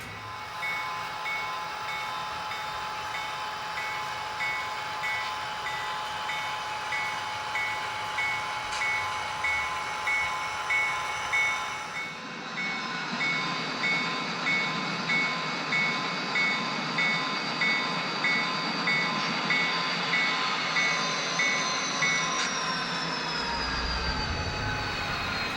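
An HO scale model train creeps at low speed into a rail yard on a layout, its steady rhythmic clicking and whirring running throughout, with a faint squeal near the end.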